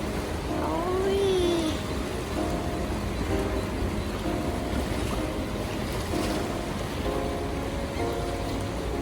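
Wind-driven waves rolling across a lake in Finland on a cold, gusty day, with boats being paddled through the surf; a steady, close broadband wash of water and wind buffeting the microphone runs throughout, with a faint voice near the start.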